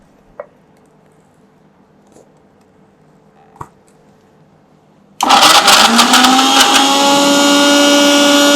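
A blender beats pistachio praline paste: after about five seconds of near silence with a few faint knocks, the motor kicks on loudly and holds a steady, dense whir through to the end.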